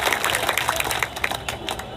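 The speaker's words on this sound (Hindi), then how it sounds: "ताली मारो" Audience applause at a village fair comedy show, a steady dense clapping crowd throughout, loud and close with scattered sharper claps and no voices over it.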